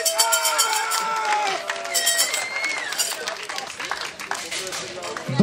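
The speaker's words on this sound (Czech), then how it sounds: "Velký potlesk pro Bíkov Larišov." Outdoor team games in Úvalno, 2019: a crowd claps and cheers steadily throughout, dense and fairly close, with a voice or two rising over the continuous applause.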